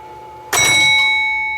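Bells of a 1958 Genco Space Age pinball machine ring out twice in quick succession, a loud metallic strike followed by a long ringing decay, alone and close.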